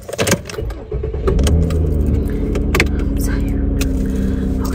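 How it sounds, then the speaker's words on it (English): A car pulling off, with a low engine rumble swelling and holding steady after a brief clatter at the start, close and fairly loud. "the car just pulled off"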